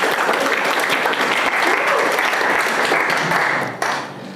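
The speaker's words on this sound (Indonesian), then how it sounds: "kita beri aplaus untuk Rizal" An audience in a polytechnic teaching session gives a dense, steady round of applause that fills the room, then thins out near the end.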